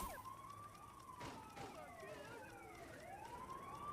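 Wailing sirens from a SWAT van and other police vehicles in Grand Theft Auto 2, several overlapping sweeping tones rising and falling over game noise, faint and continuous.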